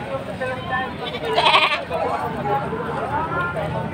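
Goats at a livestock market in Padre Garcia, Batangas bleat loudly and close by, one prominent cry standing out over a steady murmur of people talking and market bustle.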